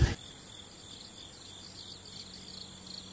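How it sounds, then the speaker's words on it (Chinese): Cicadas drone loudly in a forest campsite area at Bishan Campground around half past six in the evening, a steady shrill buzz that holds unbroken after a short bump at the start. "这个蝉鸣好大声，好清脆"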